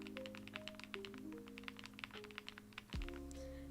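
Typing on a newly built custom mechanical keyboard, a quick irregular run of crisp clacky keystrokes heard up close and fairly quiet, over a steady electrical hum, ending in a soft thump.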